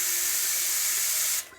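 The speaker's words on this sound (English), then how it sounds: "Now, I am going to spray my starch directly into this bag." Starch sprayed from an aerosol spray can into a bag, a steady close hiss lasting over a second before cutting off.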